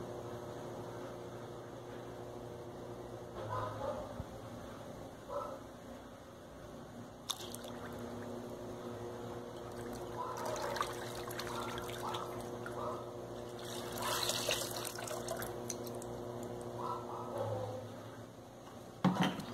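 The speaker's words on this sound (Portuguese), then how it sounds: "Agora a gente vai colocar 2 litros de álcool de posto." Two litres of fuel-station alcohol poured into a container while making homemade soap with alcohol and sugar, a soft sloshing, splashing flow with drips and clinks, fairly quiet, with someone speaking at times.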